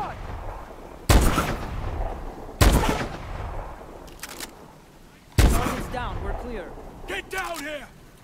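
Sniper rifle shots in a video game ring out three times, each a loud, sharp crack with a trailing echo, spaced a second or more apart, with someone talking in between.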